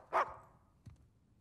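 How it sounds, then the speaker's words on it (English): A dog in the video game Uncharted 4: A Thief's End gives one sharp bark, then a softer second sound a moment later, at moderate distance with no speech. "Oh, look at the dog."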